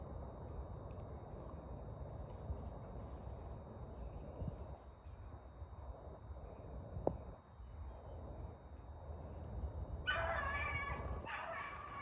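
A hare hunting dog in pine woods whimpers and gives short high yips and barks, faint at first over outdoor rustling and wind, then louder and nearer near the end.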